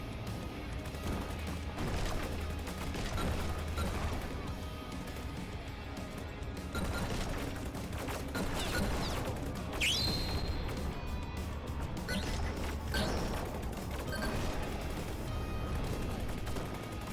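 Missiles firing in the flight video game Rogue Flight, a dense, continuous barrage of blasts and crashing impacts that keeps up loud throughout, with one sweeping high whine partway through.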